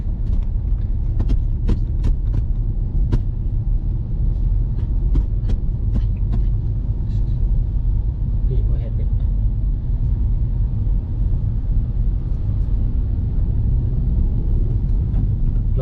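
Steady, loud engine rumble of cars and large vehicles stuck in a traffic jam in Vientiane, Laos, with scattered brief clicks and faint higher noises over the continuous low drone.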